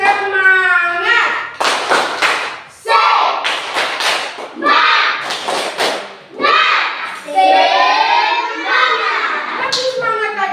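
A group of children clap in a rhythmic spirit-clap pattern, sharp bursts of hand claps alternating with chanted voices in a classroom, loud and close.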